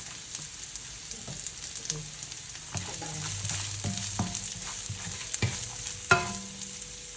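Carrots added to browned garlic sizzle in a pan for fried rice, a steady close hiss with intermittent stirring clatters and scrapes of a utensil, one sharper knock near the end, no talk.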